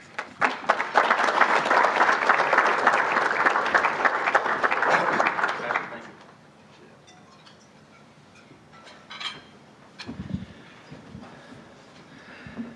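An audience at a public affairs talk breaks into loud, sustained applause lasting about six seconds as a speaker is welcomed to the stage, then fades to a quiet room with a few scattered noises.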